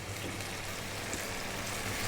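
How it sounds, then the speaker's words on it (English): Water being poured into a pot of simmering beef curry, 250 ml in all, giving a steady, close, trickling wash of sound with no voices. "I'm going to drop in 250"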